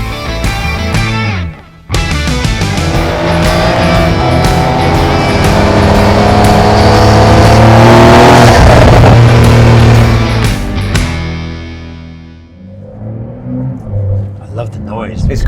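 Porsche 911 Dakar engine heard from inside while driving, a loud, raw, continuous roar that rises and swells, then eases off near the end, with people talking over it.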